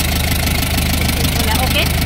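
A surplus Japanese truck diesel engine idles close by, a steady loud low rumble with a rapid knocking pulse that holds through the whole stretch.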